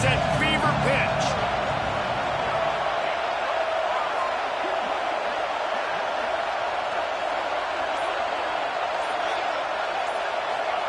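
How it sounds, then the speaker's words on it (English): Stadium crowd at a college football game, Florida State at Texas A&M, roaring on a third-down play in the red zone: a sustained, loud, steady wall of crowd noise with a commentator's voice over it. "this crowd is at fever pitch"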